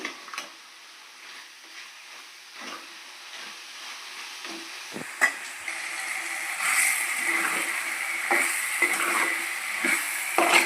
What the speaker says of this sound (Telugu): వాటర్ అయితే పోస్తున్నాను